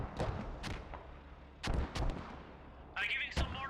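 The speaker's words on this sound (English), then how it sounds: "I'm giving some mortars on the orchard, west side." Mortar rounds in the tactical shooter game Squad, several heavy booming impacts and thumps, some in quick pairs, spread over a few seconds with a rumbling tail, moderately distant.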